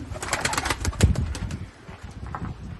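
Pigeons in a coop with nests during the egg and chick season coo and shuffle close by, their soft burbling calls mixed with rustling and a faint flutter of wings.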